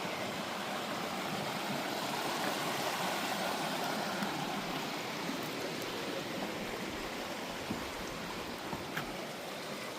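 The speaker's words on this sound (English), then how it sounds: "This is Milton Creek." Milton Creek, a clear mountain stream beside a Pacific Crest Trail bridge crossing, rushes in a steady, even wash of flowing water with no voices.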